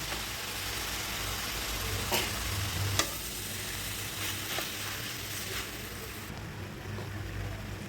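Noodles with capsicum and beet stirred and cooked in a pan, giving a steady low sizzle with soft scraping stirs and a few brief clinks, close and continuous.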